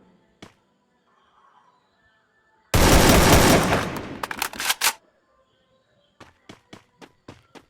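Gunfire rings out in a shooting video game as a dense burst of rapid shots lasting a couple of seconds, followed by a string of separate single shots, loud and sharp against near silence.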